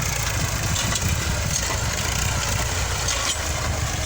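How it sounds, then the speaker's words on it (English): Tractor engine running steadily during second ploughing of a field being prepared for MD2 pineapple planting, a continuous mid-distance mechanical drone with constant loudness. "The tractor is doing second plowing."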